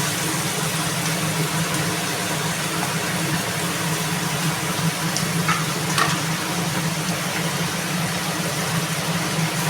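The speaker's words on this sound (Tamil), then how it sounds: "வெங்காயம் கருவேப்பிலெல்லாம் சேர்த்துருவோம்." Onions and curry leaves fry in hot oil for a prawn gravy, giving a steady, close sizzle with a few faint stirring clinks and no talk.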